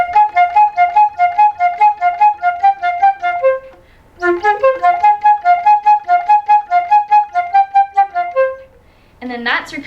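A solo flute plays the opening lines of a melody, two phrases of quick detached repeated notes split by a short pause, close and clear, with a brief extra sound right at the end.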